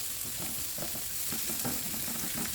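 Onion and garlic sizzle steadily in hot oil in a pan, a constant crackling hiss with a few soft stirring scrapes, close and moderately quiet.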